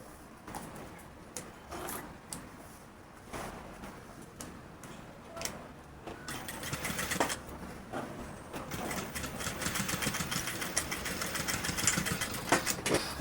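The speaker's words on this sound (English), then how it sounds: "and then I run the same stitch" A sewing machine runs a stitch along a welt pocket, starting with light ticking and handling noises and then building into a steady, close mechanical clatter. No one speaks.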